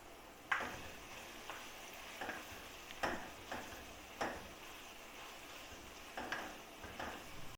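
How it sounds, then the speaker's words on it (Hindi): Minced keema fries in a pan with a soft continuous sizzle, broken by repeated light taps and scrapes of a spoon stirring it at irregular intervals, fairly quiet and with no talking. "कीमे की भुनाई हो रही है माशाल्लाह।"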